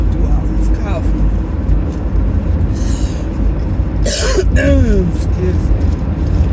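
Heavy coughing and throat clearing from a person with a lingering cough, several harsh bursts over a constant low rumble like a car interior, with talking around them.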